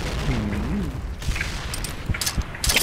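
Video game combat: rumbling booms, then several sharp gunshot bursts crackling toward the end, loud and dense throughout.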